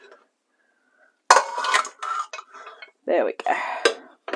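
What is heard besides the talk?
big saucepan being taken down, pots and pans clattering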